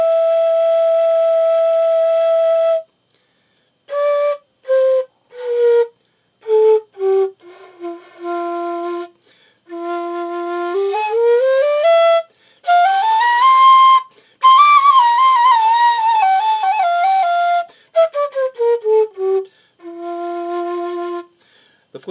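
A handmade wooden flute plays clear, pure tones, first a long held note with no fingers down, then a series of short and sustained notes stepping up and down across the range, loud and close, with brief pauses between phrases.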